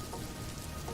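Rain falls in a village, a dense, even hiss of drops pattering on surfaces without any pause.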